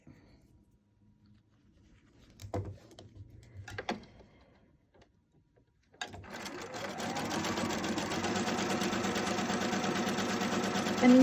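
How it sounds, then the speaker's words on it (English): A sewing machine stitches together the main pieces of a monorail table runner, running as a loud, steady, continuous whir after a few soft handling taps. "I mean, you can see I'm sewing all these main pieces sewn together"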